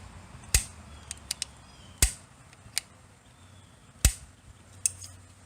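A semi-automatic rifle's trigger and action being dry-clicked during a function check, sharp metallic clicks about every second and a half with smaller clacks between, close and quiet with no talk.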